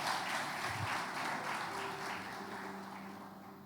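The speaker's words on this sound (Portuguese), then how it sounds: "Aplauda Jesus por isso." A church congregation applauding during a service: a dense, even patter of many hands clapping, fairly faint and distant, sustained without breaks and gradually easing off.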